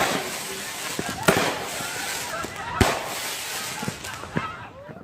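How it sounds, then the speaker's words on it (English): Fireworks from a played video burst over a steady hiss: two sharp loud bangs, then several smaller pops and crackles. "That was a firework video."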